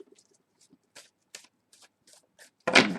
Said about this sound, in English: cut the deck and get stuck in